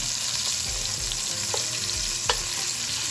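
Chicken pieces sear in a hot pan for a French braise with wine and tarragon, giving a dense, steady, close sizzle with a few faint clicks and no talking.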